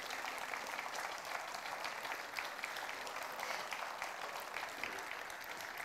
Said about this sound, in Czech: Takže velký potlesk, váš potlesk, patří i vám